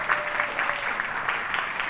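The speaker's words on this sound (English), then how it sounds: "Please give him a round of applause" Audience clapping for a book designer at a book launch event, a brief steady burst of applause with a voice faintly underneath.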